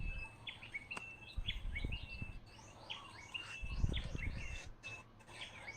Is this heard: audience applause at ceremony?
no